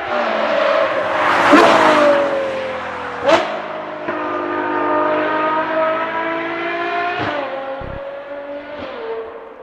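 A Ferrari Purosangue with a Novitec aftermarket exhaust roars and revs, with sharp throttle blips and crackles between sustained engine notes, loud and close.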